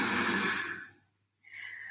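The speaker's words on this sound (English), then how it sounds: "2 big deep breaths here." Deep breathing during a yoga flow: one long, close, airy exhale fading out, a short pause, then the start of a strong inhale.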